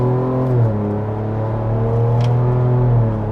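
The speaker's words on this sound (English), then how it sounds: "you can still hear a decent grunt with this 3-liter twin turbo, even in its most relaxed exhaust mode" A 2024 Ford Ranger Raptor's 3-liter twin-turbo engine pulls under steady throttle in its relaxed exhaust mode, a deep, even, loud drone with a slight rise in pitch from inside the cabin, no voices.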